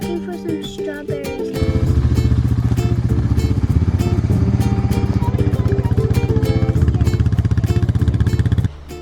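Four-wheeler ATV engine starting and idling, a loud steady chugging putter close by that holds for several seconds, then cuts off abruptly, with brief sounds before it starts.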